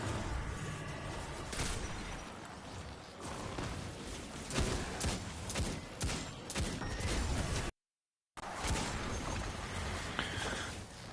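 A newly acquired hand cannon fires in Destiny 2, sharp separate shots cracking among busy combat noise, with a short break of silence partway through.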